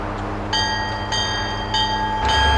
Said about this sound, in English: Crews now manually protecting the crossing, CP V84 proceeds through the crossing, continuing its journey south.